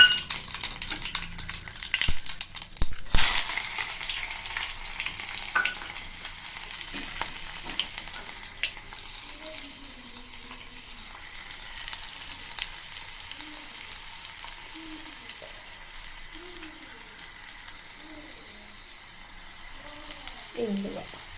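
Mustard seeds, cumin and fenugreek crackle in hot oil in a pan as a tempering for a Telugu dish, with soft steady sizzling, a sharp clatter early on and faint scattered pops afterwards.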